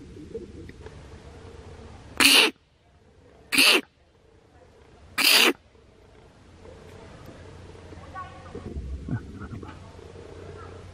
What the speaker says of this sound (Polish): Tak koty robią nieraz, jak się tam prychają.